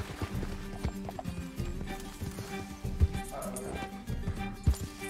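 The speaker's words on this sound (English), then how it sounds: "Can't this horse go any faster?" A horse gallops in Red Dead Redemption 2 with steady rhythmic hoofbeats, close and continuous, alongside scattered game sound effects.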